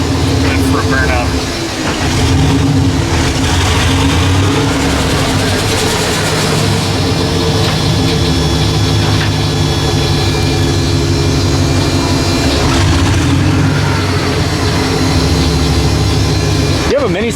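A turbocharged LS-swapped burnout truck running loud and close outdoors, a dense sustained engine roar with rising revs, with people talking over it throughout.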